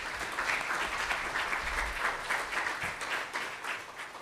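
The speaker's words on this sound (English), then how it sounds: "So maybe just one more round of applause for the panel as a whole." An audience at a Dalhousie food-policy panel event gives a steady round of applause for the panel, the clapping dense and even throughout with no talk over it.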